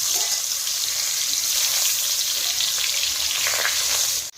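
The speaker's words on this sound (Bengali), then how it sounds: "তেলাপিয়া মাছ ভেজে নেব।" Tilapia fish frying in oil, a strong, steady close-up sizzle with crackling bursts that holds throughout and cuts off abruptly at the end, no speech.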